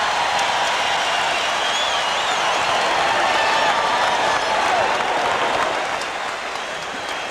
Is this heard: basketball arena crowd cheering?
yes